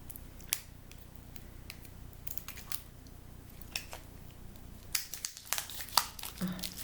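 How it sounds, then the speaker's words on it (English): Scissors snip through the plastic wrapping on a new oracle card deck, giving soft crinkles and a few sharp clicks that cluster near the end, close up and fairly quiet, with no talking. "Oh, they're wrapped in plastic, so just give me a moment while I get my trusty pair of scissors out."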